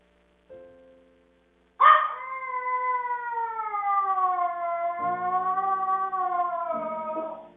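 A dog lets out a long, wavering, high-pitched cry that sounds like a meowing cat, preceded by a short whimper.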